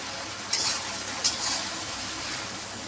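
Taro stolons fry with onion paste in a pan under a steady sizzle, with two sharp utensil scrapes or clinks early on, heard up close and without voices.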